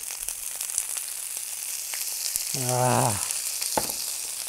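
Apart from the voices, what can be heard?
artichokes frying in olive oil in a pan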